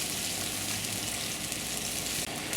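A pot of adobong bulalo beef boiling hard on the stove, a steady, loud bubbling and hissing roar that runs unbroken throughout with no voices.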